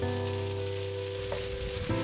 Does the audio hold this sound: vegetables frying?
yes